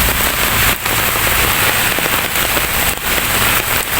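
Heavy rain pours down in a dense, loud, unbroken hiss with spattering drops close by, continuing throughout.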